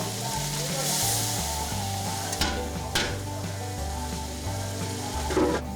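A chicken biryani masala mixture sizzles in a pot as it is stirred, a steady frying hiss with a few sharp scraping knocks against the metal. A low, repeating tonal hum sits underneath throughout.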